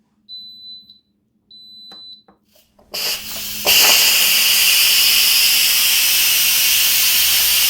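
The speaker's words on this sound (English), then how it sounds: "I hit cancel and did a quick pressure release." After two short electronic beeps from an Instant Pot, a quick pressure release of red beans and rice bursts into a loud, steady steam hiss that continues unbroken to the end.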